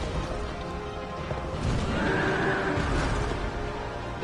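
A horse in Dark Souls II lets out a loud, drawn-out whinny, set against clattering hooves and heavy impact crashes from combat.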